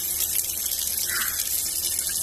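Tap water runs steadily into a sink while red wildcrafted bladderwrack seamoss is washed, a continuous close splashing hiss with no talk.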